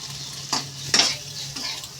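Two dried red chillies fry in a pan with cumin powder for a quick evening snack, a continuous close sizzle punctuated by a couple of sharp stirring scrapes against the pan.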